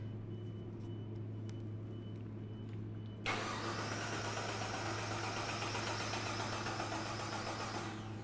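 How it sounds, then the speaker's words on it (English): Car engine being cranked over by the starter during fuel trim diagnosis, a steady broadband churning that starts abruptly about three seconds in and runs continuously to the end over a low constant hum. "So go ahead and crank it over, Fritz."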